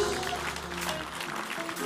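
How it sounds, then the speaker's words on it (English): A church congregation claps at a worship service, a soft, scattered patter of hands heard under the preacher's speech. "I don't like the way you're clapping like I did a bad job."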